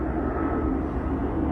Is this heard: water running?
no